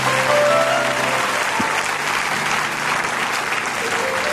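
A church congregation claps and applauds during worship, a dense, loud, sustained wash of hand claps from a large crowd filling the room, with faint voices mixed in.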